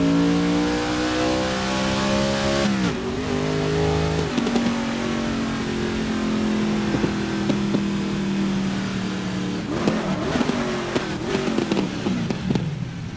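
A Holden Commodore race car engine roars loud and close in GRID (2019), revving up through the gears with sharp pitch drops at each shift, then sustaining a high, droning wail before revving again.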